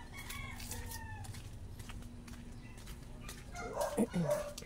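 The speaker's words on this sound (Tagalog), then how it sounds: "Ay, tumataho lang aso." A dog barks a few times near the end, loud bursts over steady outdoor ambience with roosters and chickens clucking and crowing in the background; earlier a person talks quietly.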